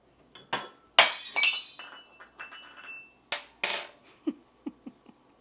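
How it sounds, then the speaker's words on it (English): A glass cup breaks with a sharp crash and bright shattering, followed by scattered clinks and tinkles of shards settling, close and loud in a quiet room. "I literally just broke a glass cup"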